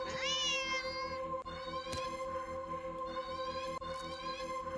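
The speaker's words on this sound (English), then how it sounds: "The cat struggles in your hold. It's watching you closely." A cat meows loudly in the horror video game Do Not Take This Cat Home, one long rising-and-falling call near the start, over a steady electronic drone and soft game sounds.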